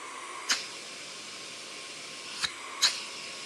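A Hoover upright vacuum cleaner runs steadily during a suction test, a constant airy roar with a few sharp clicks or snaps.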